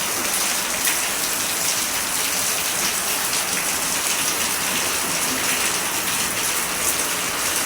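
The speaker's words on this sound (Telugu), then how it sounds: "ఫుల్ వర్షం పడుతుంది." Heavy rain pours down steadily on a rural home's surroundings, a dense, continuous hiss of drops on surfaces with no gaps, loud and close throughout.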